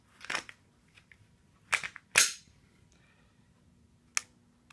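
A Glock 17 pistol's trigger gives several sharp, close mechanical clicks, spaced irregularly, with the loudest pair coming close together and a fainter click near the end against quiet background.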